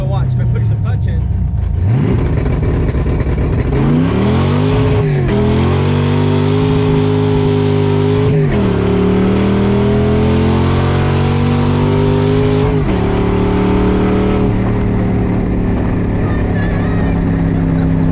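A 1973 Corvette engine revs up repeatedly, its pitch climbing and dropping in several loud surges that hold steady near the end.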